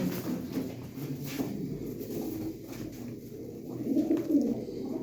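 Breeding pigeons coo in a loft, soft throaty calls repeating and overlapping close by, with a slightly louder burst of cooing near the end.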